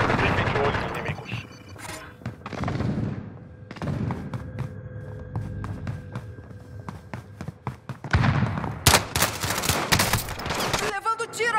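Gunfire in the video game Call of Duty: Modern Warfare: repeated bursts of shots and heavy thuds, with a dense flurry near the end, mixed with game sounds and voices talking.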